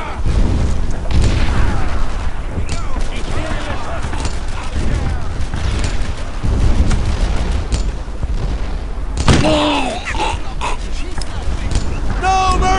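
Gunfire and explosions rumble almost continuously in a Brothers in Arms skirmish, dense dull booms and bursts layered with shouted squad commands throughout.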